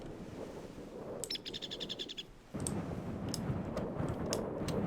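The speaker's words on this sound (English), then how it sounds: "we can hear it's windy and there's a bird here" A bird in Minecraft chirps in short repeated high trills over a steady rush of wind, the calls bright and fairly close, then scattered single chirps continue.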